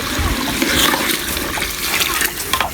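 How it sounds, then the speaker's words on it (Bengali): Hot water is poured into a pot of bhuna khichuri with chicken, a close, splashing, gurgling stream lasting the whole moment with a few small knocks. "শুকনো পানি দিয়ে দিচ্ছি"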